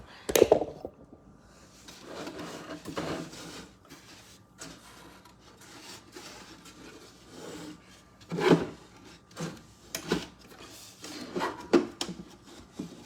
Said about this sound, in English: Okay, let me remove the drawer.